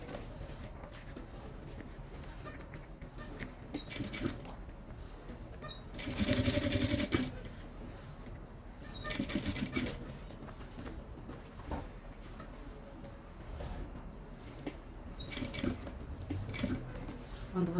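Sewing machine stitching fabric for a Kipling-style zippered pouch, running in steady whirring bursts at close range with brief pauses between runs, and louder stretches around the middle and end.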